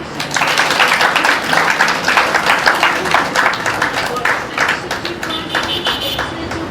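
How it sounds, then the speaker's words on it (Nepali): A congregation at a church gathering applauds to welcome its pastor, a thick wash of many hands clapping that stays strong for several seconds, then thins out, with voices mixed in. "आउनुहोस् हामी ताली बजाउँ"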